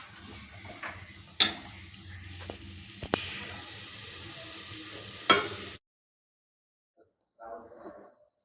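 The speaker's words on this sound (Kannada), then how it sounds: "ಇವೆಲ್ಲವನ್ನು ಸೇರಿಸಿ ನಾವು ಚೆನ್ನಾಗಿ ಬಾಡಿಸ್ಕೊಳ್ಬೇಕು. ಫ್ರೈ ಮಾಡ್ಕೋಬೇಕು." Chicken gizzards and jackfruit seeds fry with spices for a gravy, giving a soft, steady sizzle with a few sharp utensil clinks against the pan. The sound cuts to silence, then faint muffled talk follows.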